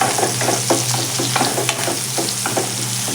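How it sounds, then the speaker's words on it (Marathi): A ground ginger, garlic and coriander paste sautés in hot oil for a cauliflower-potato dry curry, with a constant loud sizzle and a spoon scraping the pan in short repeated strokes, close and without talk. "आता आपण यामध्ये आलं लसूण व कोथिंबीर हे वाटलेलं होतं ते आपण घालून घेऊया आणि ते देखील या तेलामध्ये छान असं मिक्स करून घ्यायचं आहे"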